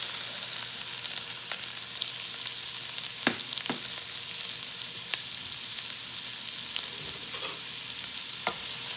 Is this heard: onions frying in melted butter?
yes